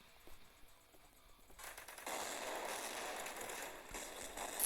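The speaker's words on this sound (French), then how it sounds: "je crois que c'est un fusil à pompe ou une mitraillette" Gunfire from a shotgun or submachine gun in the video game Blood Zone: a dense, sustained burst of rapid shots that starts after a quiet mechanical stretch and stays loud and steady to the end.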